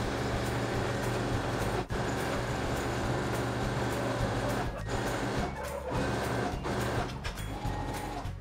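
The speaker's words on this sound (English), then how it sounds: "I am going to stitch the rest of it from here all the way to leave this gap" A sewing machine stitches saree fabric being remade into a kaftan, a continuous close whirring and clattering run of stitches broken by a few brief pauses and slowdowns.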